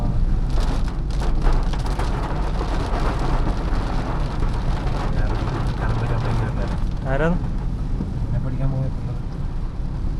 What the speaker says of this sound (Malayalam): മഴയല്ലേ